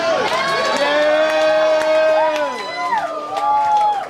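A live audience cheers loudly and steadily, with sustained whoops and drawn-out shouts from many voices rising and falling; the cheering fills the entire stretch close by.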